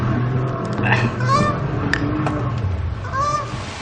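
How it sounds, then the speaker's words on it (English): A goose honks repeatedly in short, uneven calls, loud and close, over a low steady background hum. "That is our goose sound."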